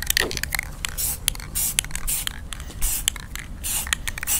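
Short bursts of Rust-Oleum semi-gloss paint with primer sprayed from an aerosol can during interior work on a 1971 Cutlass, a series of brief hissing puffs close by with small handling noises between.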